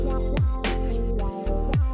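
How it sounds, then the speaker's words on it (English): Resonant synth lead from a Microkorg XL with auto pan and delay, playing a short melodic phrase of sustained notes with sweeping filter pitch bends that slide downward, close and clear. "res lead, or that's what it's called on my Microkorg XL"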